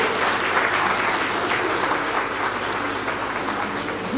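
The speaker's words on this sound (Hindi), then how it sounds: "तालियां बजती रहनी चाहिए" Sustained applause from a school annual day audience, a dense, steady wash of many hands clapping together for several seconds, loud and close with no break.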